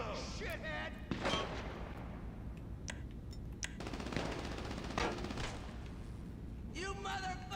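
Rapid AP pistol fire in GTA 5 Online rips out in loud bursts and single cracks amid other gunfire, with someone talking over the action.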